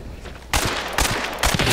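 Shotgun fire in the video game Hunt: Showdown, three loud broadband blasts spaced about half a second apart, each with a short ringing tail over a steady low background hum.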